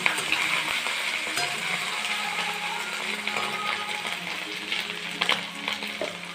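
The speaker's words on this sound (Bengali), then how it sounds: "পেঁয়াজ এবার দিয়ে আমি এটাকে ভাজতে থাকবো" Onions sizzle steadily in hot oil in a pan, with scattered stirring scrapes and utensil clicks throughout, close and fairly loud.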